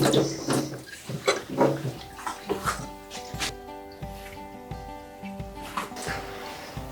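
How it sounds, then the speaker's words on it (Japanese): Gutted horse mackerel rinsed by hand under running water at a kitchen sink, a steady splashing stream with intermittent sloshing and rubbing noises, close and moderately loud, no talk. "内臓を出したらしっかりと水で洗っておきます"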